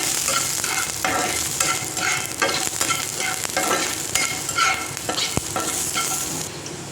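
Whole garlic cloves frying in hot oil in a pan, a steady close sizzle broken by repeated scraping stirs and occasional sharp pops, with no voices.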